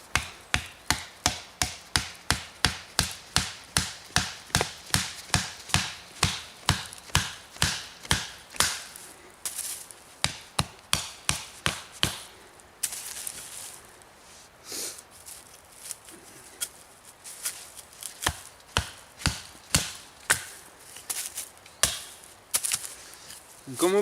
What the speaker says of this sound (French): On va pouvoir bâtonner quelques petites sections, ça va même très bien